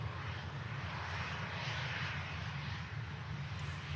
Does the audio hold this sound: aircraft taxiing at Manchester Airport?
yes